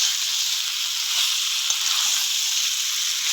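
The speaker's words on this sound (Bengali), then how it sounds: "এবার ভালো করে কষিয়ে নিতে হবে।" Raw jackfruit curry being sautéed and stirred, a bright, steady hissing sizzle that stays even and close throughout, with faint soft knocks of the spoon underneath and no one speaking.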